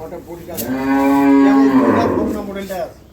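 A Friesian dairy cow on a farm gives one long, loud, close moo that swells and then tails off, with no talking over it.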